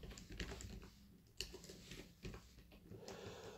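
Keys clatter on a computer keyboard as someone types JavaScript code, a close, quick irregular run of clicks in short bursts with brief pauses and no talking.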